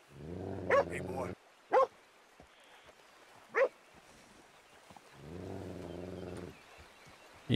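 An unfriendly dog in Red Dead Redemption 2 gives a few isolated barks spaced out over several seconds, while someone talks before and after them.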